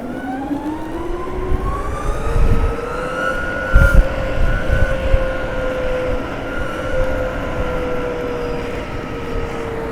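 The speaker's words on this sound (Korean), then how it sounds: "소리가 엔진 소리가 꽤 좋아요" An Icebox electric skateboard's motor whines while riding, a tonal hum that climbs in pitch then holds steady, over a rolling rumble of wheels with a few bumps and knocks.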